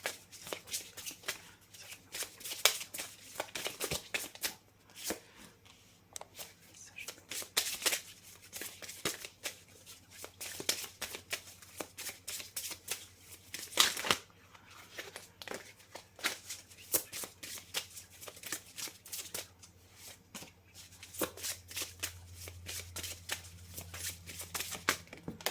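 Tarot cards are shuffled and drawn by hand in a run of quick riffling bursts and soft taps, close and fairly quiet, repeating unevenly with short pauses between them.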